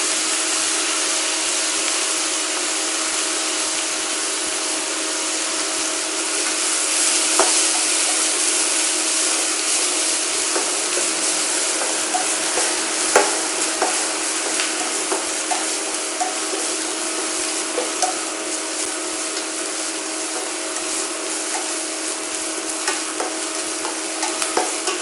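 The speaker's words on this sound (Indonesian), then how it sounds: "Lalu kita aduk hingga harum dan matang." Garlic and spices stirred and frying in a pan for macaroni skotel, a steady bright sizzle running throughout with occasional scrapes and taps of a utensil against the pan, close and continuous with no talk.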